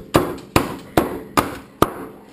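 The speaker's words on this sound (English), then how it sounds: "get to use a hammer! Hammer time!" A hammer pounds something inside a bag during fudge making, five sharp, evenly spaced thuds about half a second apart, close and loud with no talking.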